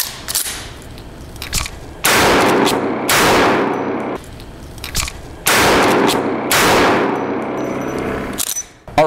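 Marlin 1894 CST lever-action rifle fitted with a Trijicon RMR firing a string of loud, close gunshots, each a sharp crack with a long ringing tail, spaced about two seconds apart.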